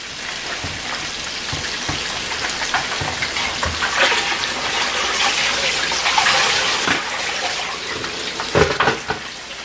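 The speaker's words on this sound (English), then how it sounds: "so I can just strain out the rice easily" Cooked rice and water pour through a colander in a kitchen while making jollof rice, a continuous close splashing and trickling with a few sharper drips and knocks.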